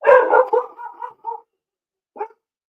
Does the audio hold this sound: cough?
no